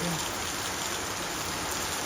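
Steady heavy monsoon rain, a dense close wash of falling water with an even level throughout and a faint brief tone at the very start.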